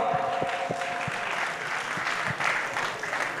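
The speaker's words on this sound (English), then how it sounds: "Another huge round of applause for our performer." A crowd claps steadily, a dense patter of many hands applauding at moderate volume with a few louder individual claps.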